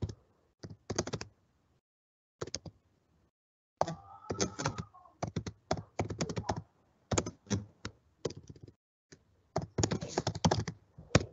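Bursts of typing on a computer keyboard while writing up a sampling plan, with quick clustered key clicks separated by short silent pauses, close and fairly quiet, with no voices.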